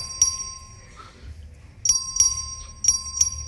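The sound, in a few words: bell rung for a record vote in a legislature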